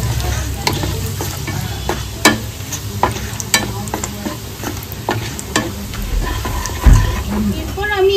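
Dried red chillies frying in oil for egg 65 while being mixed, with loud, close sizzling and a rapid run of spoon clatters and scrapes against the pan, and a brief voice near the end.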